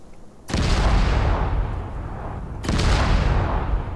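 Two heavy, booming bomb detonations in the military video game Arma 3 come about two seconds apart, each a loud close blast that trails off in a long rumbling decay.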